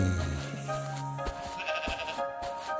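Sheep bleat in a wavering, nasal call near the start, followed by softer overlapping bleats from a flock passing by, with a steady tonal backdrop underneath.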